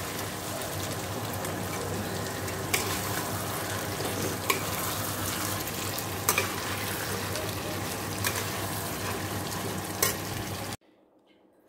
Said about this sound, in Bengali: দেখো মাংসটা কষিয়ে নিচ্ছি।